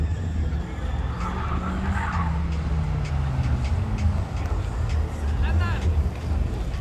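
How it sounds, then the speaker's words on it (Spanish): A Nissan Sentra 16v race car on the San Jose track, tires squealing and skidding through a corner over the steady roar of the engine, loud and close, with someone talking over it. "Ahí viene Diego para la vuelta cronometrada"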